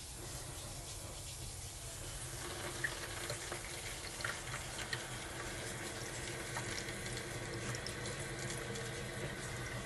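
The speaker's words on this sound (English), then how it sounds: "Not bad pressure for two faucets being on." Two faucets running at once in a 2020 Jayco Eagle 29.5 BHDS RV, a steady hissing rush of water that holds constant throughout with a few faint clicks.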